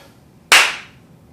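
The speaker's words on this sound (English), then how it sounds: "Let me just clap." One sharp, loud hand clap made close by to sync cameras during an oral history interview session, a single crisp crack that fades quickly into a quiet room.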